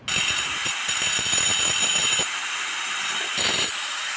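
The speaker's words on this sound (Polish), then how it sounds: "Szlifierka nie spowalnia, cały czas pracuje pełną mocą" An angle grinder powered by an EcoFlow River 2 Pro portable power station runs at full speed, a loud, steady high-pitched whine with rapid gritty bursts of grinding contact, easing briefly before cutting in again.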